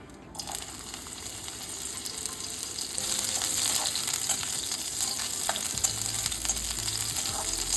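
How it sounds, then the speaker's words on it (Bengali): Long-cut bitter gourd strips and dried lentil dumplings frying in reheated oil, a dense close sizzle that grows louder after a few seconds and keeps crackling steadily, with faint stirring and no talk. "এবার আমি এর মধ্যে ভেজে নেব হচ্ছে উচ্ছে আর বড়িগুলো।"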